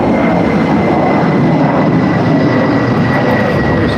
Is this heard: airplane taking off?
yes